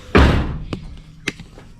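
A car door with an LRB Speed panel opens with one loud thunk when its handle is pulled. Two softer clicks or taps follow shortly after.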